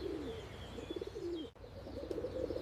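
Pigeons coo steadily and close by in repeated throaty rolls, with a faint high bird chirp above and a brief dip to near silence midway.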